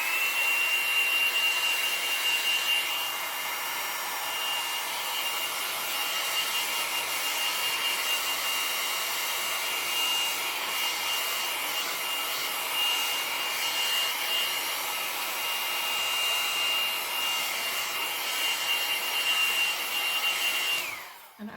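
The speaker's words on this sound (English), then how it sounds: "I'm going to go ahead and just blow dry this" A handheld blow dryer drying red paint on a fabric Valentine's craft project, a continuous steady whine and airy rush held close for about twenty seconds before cutting off at the end.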